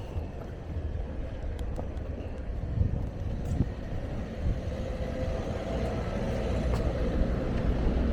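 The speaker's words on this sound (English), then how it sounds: "cars coming. Get out of the way." A vehicle rumbles past close by, a steady low roar of engine and road noise swelling slightly toward the end, with no talking.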